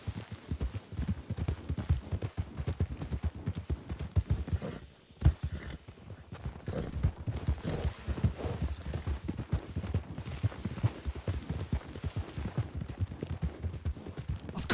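Horses clip-clop in a game, with rapid, irregular hoofbeats from several animals galloping close, moderately loud and continuing throughout apart from a brief lull midway.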